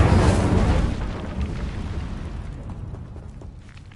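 An Incendio fire spell cast in Hogwarts Legacy bursts out with a loud whooshing blast of flame that quickly fades into a crackling, rumbling tail.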